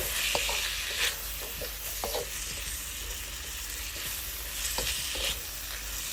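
Chicken pieces stirred in a hot pan with light soy sauce, a steady sizzle broken by several scraping utensil strokes and clanks against the pan, close and alone without talk.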